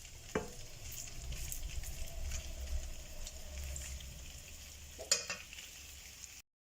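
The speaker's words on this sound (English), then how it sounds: "And we'll add the meatballs in. And we're going to brown them off." Meatballs brown in a frying pan for a one-pan stew, giving a soft, even sizzle with a couple of sharp utensil clacks, one near the start and one past the midpoint.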